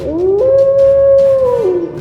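A single long, loud howl rises in pitch, holds a steady tone, then drops off at the end, close and clear.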